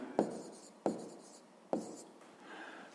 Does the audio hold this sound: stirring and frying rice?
no